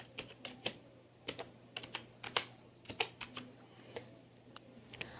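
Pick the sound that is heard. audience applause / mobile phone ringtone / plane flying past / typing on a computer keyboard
typing on a computer keyboard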